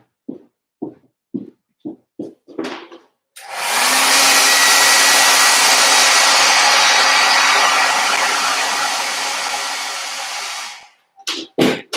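A hair dryer blows on paint in a single loud, steady burst of about seven seconds that trails off slightly before stopping. Short sharp knocks and taps come before it, and a few more follow after.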